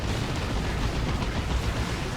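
Cannon fire hits a looted tank in a Dawn of War 2 battle between Orks and Imperial Guard, a dense, sustained roar of booming blasts and rumbling gunfire filling the whole stretch without a pause.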